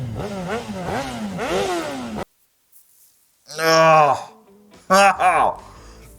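A Ducati Hypermotard motorcycle in a scene from the film Yes Man gives several quick rising-and-falling revs, then after a short silence more loud, close bursts of revving.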